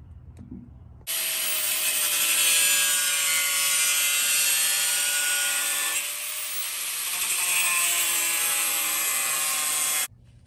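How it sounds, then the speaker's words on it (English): A cutoff blade grinds through the sheet-metal fender of a Sprinter van, a loud, harsh, high-pitched whine that starts abruptly, holds for about nine seconds with a brief dip midway, then stops sharply. "take our cutoff blade and we've cut this triangle out all the way down to here"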